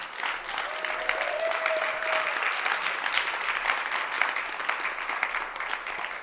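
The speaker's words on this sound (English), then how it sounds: "Big round of applause for him and Svalakshana." Steady, dense applause from a crowd at a kirtan festival in Rishikesh, many hands clapping continuously at an even level throughout, with a faint tone briefly drifting in early on.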